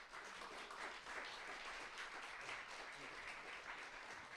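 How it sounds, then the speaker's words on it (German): Sustained, even applause from an audience for the jury at a Chinese culture weekend event in Germany, a continuous dense wash of clapping heard at a distance and fairly faint. "Einen ganz großen Applaus für unsere Jury."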